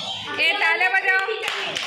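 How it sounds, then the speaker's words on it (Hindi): Children in a classroom clap together in a short burst while voices chatter over and around the claps, the clapping fairly close and uneven. "ए तालियां बजाओ।"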